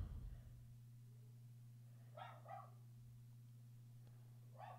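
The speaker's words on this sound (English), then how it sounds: "And the dogs are barking." A few dog barks in short bursts, a double bark then a single one a moment later, sound from mid-distance over a steady low electrical hum.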